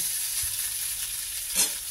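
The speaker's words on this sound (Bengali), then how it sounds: "পনিরটা ভাজা হচ্ছে" Paneer frying in a pan over low heat makes a continuous bright sizzle, close and steady, with a soft clack of a utensil near the end.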